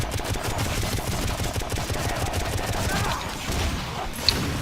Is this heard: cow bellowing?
no